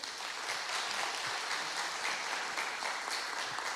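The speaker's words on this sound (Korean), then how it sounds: "우리 하나님 앞에 영광의 박수 한번 올리겠습니다." A church congregation applauds during a Sunday service, a dense, steady wash of many hands clapping, continuous and unbroken.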